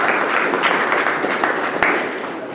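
Applause from an audience at the launch event of a plains pepper cultivators' association, a dense, steady clapping that lasts the whole short stretch without any speech over it.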